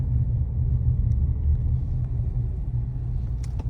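Car driving slowly into a parking lot, a steady deep engine and road rumble heard from inside the vehicle with a few faint clicks and knocks.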